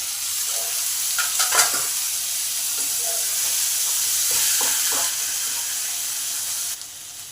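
Finely chopped tomato sizzles in a hot pan of fried ingredients for an eggless vegetarian omelette curry, a steady close hiss broken by scraping stirring strokes.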